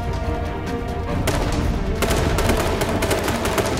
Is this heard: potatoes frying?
no